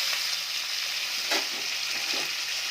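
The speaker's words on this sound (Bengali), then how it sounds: "তো ওর মধ্যে আমি এখন ধুয়ে রাখা চিকেনগুলো দিয়ে নেবো, দুটো একসাথেই ভাজবো" Washed chicken pieces and salted potatoes fry together in hot oil, giving a steady close sizzle with a few brief stirring scrapes partway through.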